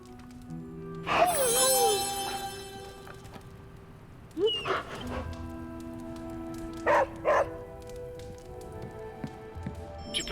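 The dog in Marvel's Midnight Suns gives a few short, clear barks and whimpers spaced several seconds apart, over a soft background patter like rain.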